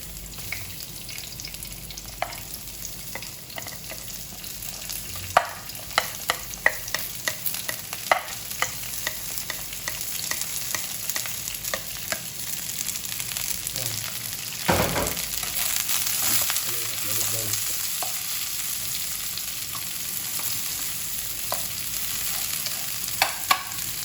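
Garlic and onion sauté in a pan for dinuguan, a soft continuous sizzle broken by repeated scraping and stirring clatter from a utensil, growing a little fuller midway.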